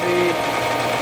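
A South Bend Heavy 10 metal lathe runs with its power cross feed engaged, giving a short, steady stretch of close gear whir and mechanical hum at an even level with no talk.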